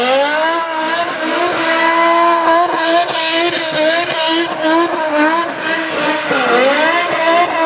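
A BMW M5 with a V10 engine roars loudly and continuously, its pitch rising and falling through repeated revs and gear changes, close and alone with no voices.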